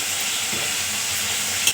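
Ground masala paste frying in a hot pan, a loud, continuous dense sizzle with no letup from start to finish.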